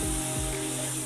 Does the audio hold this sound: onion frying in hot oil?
yes